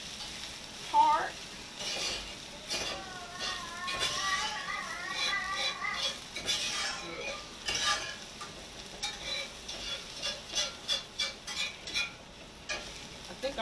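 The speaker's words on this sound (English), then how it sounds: "Now I can mix all my vegetables back together so it won't get too" Vegetables for fried rice stirred and fried in a pan, a soft steady sizzle under repeated scraping and clattering stirs that grow rhythmic toward the end, close and moderate in level.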